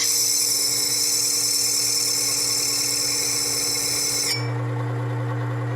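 A Work Sharp 3000 sharpener fitted with CBN wheels grinds metal from a blade, giving a loud, steady high-pitched whine with a constant motor hum that shifts abruptly as the grinding contact ends, leaving the motor running alone.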